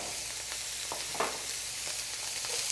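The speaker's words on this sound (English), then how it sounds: "We'll get it started with a little oil in the pan. Make sure our pan's nice and hot. And we'll start the sausage in there." Sausage frying in a hot oiled pan, a soft steady hiss with faint crackles and light stirring, close and alone without talk.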